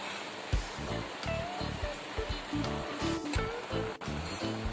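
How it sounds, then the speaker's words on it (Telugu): Half a cup of milk poured into a pot of sweet rice and moong dal pongal cooking with melted jaggery, a continuous splashing, rushing liquid sound close up, fairly loud, with no voices. "హాఫ్ కప్ మిల్క్ యాడ్ చేసుకుందాం."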